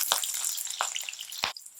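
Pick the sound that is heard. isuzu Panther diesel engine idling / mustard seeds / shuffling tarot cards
mustard seeds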